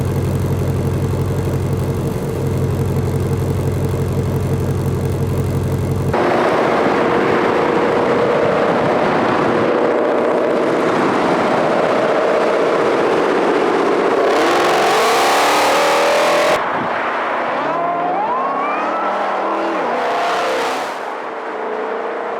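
A 2020 Ford Mustang GT500 with its 5.2-litre V8 rumbles at idle, then barks through loud, sharp revs that climb and fall several times, close and unaccompanied by talk.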